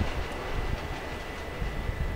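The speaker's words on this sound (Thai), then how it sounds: "ตอนนี้รถไฟเหมือนว่าจะมาถึงรางแล้วนะฮะ" A train rumbles steadily along its rails in the video game Little Misfortune, a low, continuous rolling drone with faint rhythmic clatter and no voices over it.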